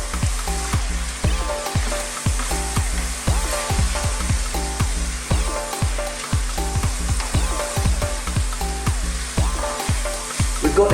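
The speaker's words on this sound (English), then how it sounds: "We're now going to put in our chopped tomatoes. We're going to give these a little mix." Chopped tomatoes and ground beef fry loudly in a hot pan, with steady sizzling and rhythmic scrapes and knocks as the mixture is stirred, close and continuous.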